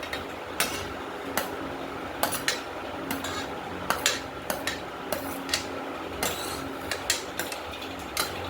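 A spoon stirs chopped fruit salad of rasakadali and nendran bananas, pomegranate and grapes in a bowl, clinking steadily and rhythmically against the side over a soft, continuous rustling background.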